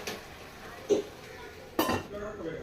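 A metal lid set on a pan of dahi gosht gives two short clinks, the second a bit louder, over a faint low background.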